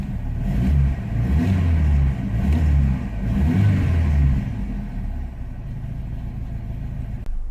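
A Volvo 240 fitted with a swapped T5 engine runs while warming up, a close, steady low rumble that swells in the first few seconds, then settles into a quieter idle.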